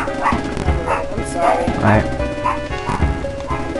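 A dog barks and yips in short repeated bursts close by, mixed in with a person talking over it.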